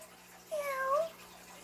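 A single cat meows once, a clear rising-falling cry that stands out against quiet background hiss, close and moderately loud.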